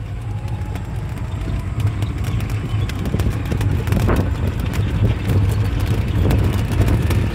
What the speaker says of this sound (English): I'm in a electric auto rickshaw. Okay, bumpy rides.